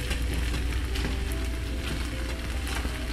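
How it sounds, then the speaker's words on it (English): Rice cooking in a pot gives a steady, dense sizzle and bubbling hiss throughout, close and constant, with faint scraping from stirring. "Make sure you stir it if you want fluffy rice."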